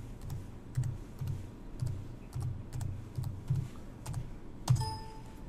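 Keys on a computer keyboard are tapped at a steady pace, about a dozen soft, close clicks in an even row as a search term is typed. A brief louder clatter comes near the end.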